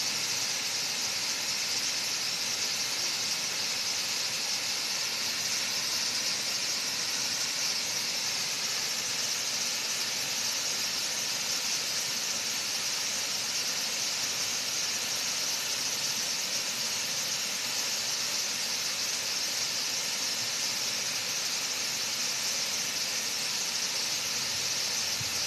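A waterfall on a hiking trail gives a constant, loud rushing hiss of falling water, unbroken and even throughout with no voices.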